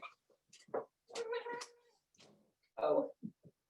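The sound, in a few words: cat meowing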